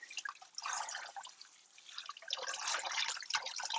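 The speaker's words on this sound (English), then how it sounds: "So we'll rinse it out." Running water pours over dyed fabric being rinsed out to remove soda ash, a soft steady splash and trickle with brief dips, close and fairly quiet, no talk.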